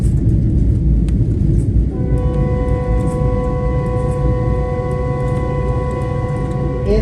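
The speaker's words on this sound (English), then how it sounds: "In addition to the train whistle that you are hearing" A train on the INRD Indianapolis Subdivision sounds a loud, sustained whistle at a crossing, its steady tone starting a couple of seconds in and holding over the deep rumble of the moving train.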